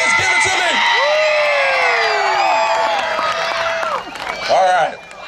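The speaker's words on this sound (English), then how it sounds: "Now's the chance where you can scream and yell as loud as you can." A crowd of kids screams and yells together outdoors at a movie night demonstration, a loud sustained mass of high-pitched shouting that surges, dips briefly near the end, then swells again.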